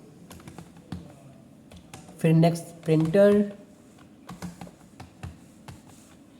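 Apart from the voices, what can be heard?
typing on a computer keyboard in Excel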